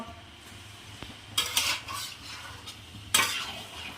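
Fried lentil fritters (bora) being stirred in a simmering curry with milk, two brief bursts of scraping spoon-on-pot stirring over a quiet background.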